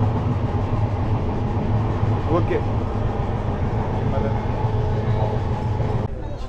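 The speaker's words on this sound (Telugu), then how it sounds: "నాకు ఇష్టమైన చైర్ కార్లో ట్రావెల్ చేస్తున్నాను అండి" Inside a moving train's chair car, a constant loud rumble of the carriage with faint rhythmic rail clatter, steady throughout with a brief voice heard over it.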